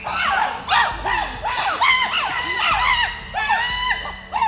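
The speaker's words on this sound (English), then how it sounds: "all of a sudden, out of nowhere, all the chimpanzees started screaming." Wild chimpanzees in Uganda break into a loud chorus of rising, hooting screams, many overlapping calls carrying through the forest for several seconds, fairly near and continuous.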